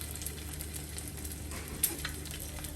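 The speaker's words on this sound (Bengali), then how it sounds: "পরোটা ভাজা হয়েছে আর ডিম ভাজছি" Eggs frying in a home kitchen pan give a steady, soft sizzle with faint scraping, and one brief louder tap near the end. No one speaks over it.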